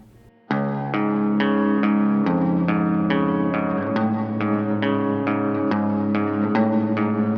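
A guitar riff from a song played slowly and cleanly, notes plucked one at a time in a repeating pattern, with a chorus-like shimmer and some echo, no voices.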